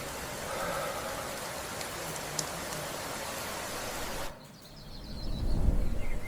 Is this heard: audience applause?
no